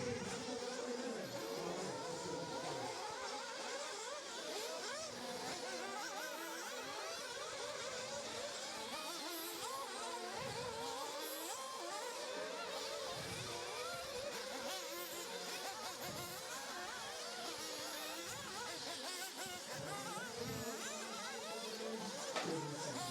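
Radio-controlled race cars entering the pit lane during an RCGP qualifying race in Austria, a continuous high-pitched buzzing whine of small electric motors layered with broadband track noise throughout.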